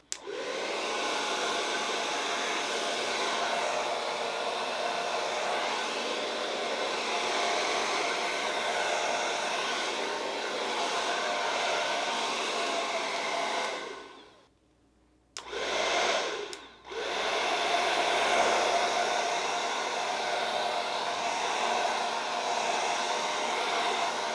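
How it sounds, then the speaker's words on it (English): A hair dryer blows steadily and loudly across a Dutch pour of paint, cuts out for a moment, briefly restarts, then runs continuously again. "The hairdryer absolutely does make a mess"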